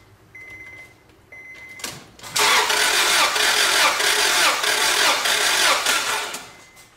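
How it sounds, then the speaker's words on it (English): Car engine on a four-cylinder motor cranking during a cylinder compression test: a faint ticking lead-in, then a loud, steady whirring roar of the engine turning over for several seconds before fading. "What you'll hear is that you'll hear the engine turning over"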